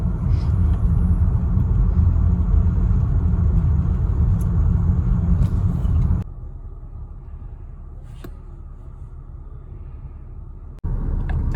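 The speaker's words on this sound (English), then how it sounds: "And we're going down. And Katie's driving" A car drives along with a constant low road rumble and engine drone heard from inside the cabin, the noise dropping suddenly partway through and then returning near the end.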